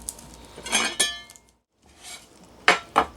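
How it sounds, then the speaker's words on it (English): Onions tumble into a crock pot with several close clinks and knocks of ceramic and cutlery, in two short clusters separated by a brief silence. "We'll throw those in the crock pot. And my 2 onions."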